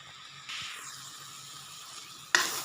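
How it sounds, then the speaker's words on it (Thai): Red curry paste being stir-fried with splashes of coconut milk in a pan, a steady close hiss with a sharp burst of sizzling near the end as more liquid hits the heat. "เหยาะไปแต่ละน้อยกะทิค่อยๆ เหยาะค่อยๆ ผัด"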